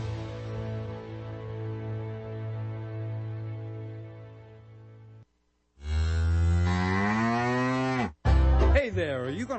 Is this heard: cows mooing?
yes